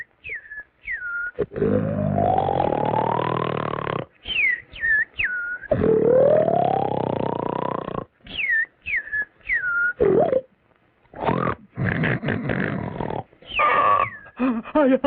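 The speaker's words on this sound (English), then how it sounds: "I can't stand that snoring any longer." Snoring in a children's storybook lesson, a rhythmic series of loud drawn-out snores, each rising inhale with whistling notes, separated by short quiet breaks and repeated several times.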